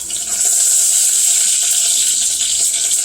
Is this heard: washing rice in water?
yes